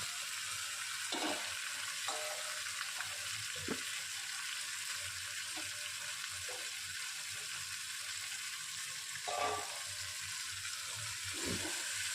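Potatoes sautéing with spices in a pan for Bengali rajma curry, a steady soft sizzle with occasional stirring scrapes at a moderate distance, no voices.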